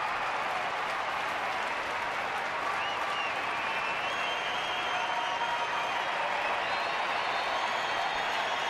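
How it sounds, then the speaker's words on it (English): Baseball stadium crowd roaring in the ninth inning of a Dodgers game in Arizona, a sustained, steady wall of cheering and clapping from a large distant audience, with whistles rising through it. "Crowd revving it up already"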